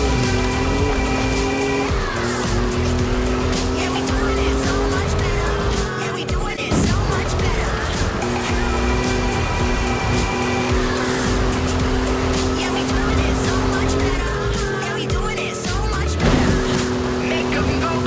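A 2021 Ford Bronco Badlands races in a video game, its engine droning loudly and steadily with rising and falling gear pitches, tire squeals and passing traffic over a continuous game soundtrack.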